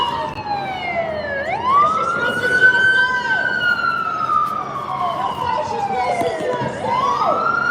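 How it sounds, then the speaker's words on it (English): Los Angeles fire engine sirens wailing with rising and falling sweeps, fairly close and loud over light street traffic, with faint voices underneath. "I'm starting to hear sirens."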